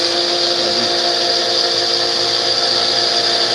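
A grinder runs continuously in a forge workshop, a steady whirring hum at constant loudness that fills the whole span, with no voices.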